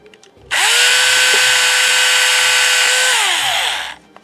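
Small power drill whirring steadily for about three seconds while assembling a Meganobz miniature model, loud and close with a rising spin-up and tapering wind-down.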